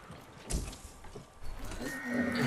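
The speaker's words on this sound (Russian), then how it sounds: "Подготовьте коня к выезду." A horse whinnies and snorts with some hoof movement, nearby and moderately loud, over a busy ambient background with no clear speech.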